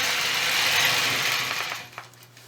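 Domestic sewing machine stitching a quilt block, a fast steady mechanical whir that slows and fades near the end, followed by a faint click.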